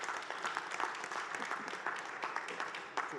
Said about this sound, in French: moi, je propose qu'on les applaudisse